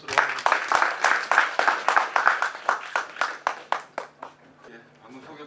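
An audience at a Korean basic income forum session claps for a speaker being introduced. The applause comes as a run of sharp, evenly spaced claps that thin out and fade near the end, under a faint background hum.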